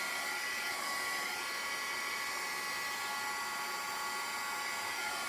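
A handheld dryer blows air over a chalk-ink transfer on a kitchen towel, making a steady whining, whooshing hum that stays loud and even throughout with no voices.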